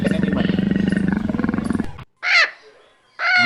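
A leopard gives a deep, rasping roar in a long pulsing series of grunts, loud and close, before it stops and two shorter, higher calls follow after gaps of silence.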